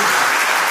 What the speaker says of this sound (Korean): 인사할 때 뜨겁게 박수 한번 해주시고